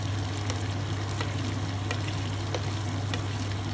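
Yogurt stirred into chicken korma as it fries in a pot, giving a steady low sizzle throughout with faint scraping ticks and no talk.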